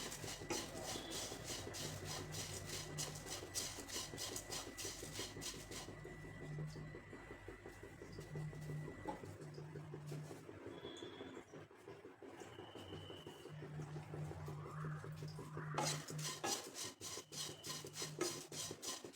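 Thin poha being stirred and dry-roasted in a heated kadhai over low flame, a steady dry raspy scraping and rustling that carries on continuously at moderate level, with no talking.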